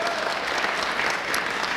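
Applause from a small gathering honoring a family of artists at a candle-lit event, steady dense clapping filling the whole moment without pause.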